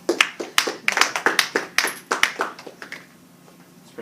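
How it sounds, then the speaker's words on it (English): An audience at a 1920s-themed late-night show applauds the flappers, a short burst of close, sparse hand clapping that thins out and fades after about three seconds. "Let's give them a big round of applause"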